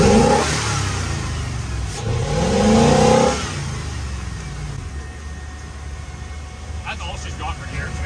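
Unimog 404 engine at a motor festival, starting and then revving loud and near with rising mechanical roars before settling into a rough idle while people talk nearby.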